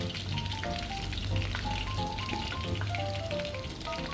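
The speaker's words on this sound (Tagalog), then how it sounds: "Medyo mabula lang po talaga yung oil natin kasi nga use oil" Shrimp frying in foamy, bubbling used cooking oil, a steady close sizzle with crackling pops throughout.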